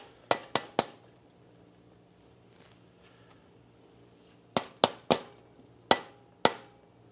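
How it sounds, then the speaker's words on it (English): Hammer taps on a tight part of a Hutch Pro Racer BMX bike, with three quick sharp metallic strikes, a long quiet gap, then five more ringing blows in a steady rhythm, close up and with no talk. "Usually hate using hammers and persuading stuff on like that, but this sucker was tight."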